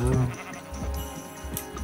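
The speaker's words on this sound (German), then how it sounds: "Ein Schaf auch noch." Sheep bleating in the Minecraft video game, short repeated bleats mixed with steady in-game background sound, moderately loud, no talking.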